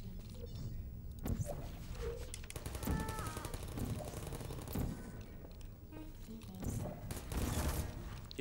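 Rapid bursts of turret gunfire in the video game Portal ring out in clustered volleys, with a voice speaking briefly between the shots.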